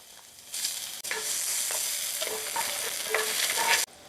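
Onion hits hot oil in a 9-inch cast iron pan and sizzles steadily up close, with a few scraping stirs and clicks of a utensil over the continuous frying hiss.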